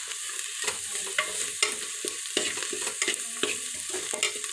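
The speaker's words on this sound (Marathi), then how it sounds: "काळं तिखट आणि गरम मसाला, या सर्व वस्तू ही तेलावरती चांगल्या परतून घ्या" Red chili powder and garam masala are stir-fried in hot oil. Quick, rhythmic scrapes of a spoon against the pan ride over a light crackling sizzle, close up and without any talk.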